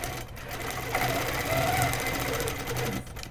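A sewing machine runs steadily for a few seconds, stitching a small decorative curl into a quilt with a ruler, its motor hum and rapid needle rhythm close and continuous with no talk.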